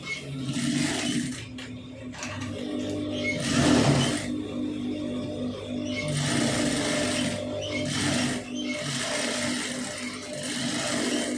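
A sewing machine stitches a side seam on a blouse, running in a steady close mechanical whir for long stretches, with brief pauses and restarts.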